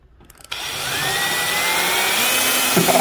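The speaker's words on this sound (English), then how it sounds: "let me drill my hole out a little bit easier" After a soft click, a power drill spins up into a close, steady high whine that holds for a few seconds while drilling a hole to fit a trim tab on an RC boat.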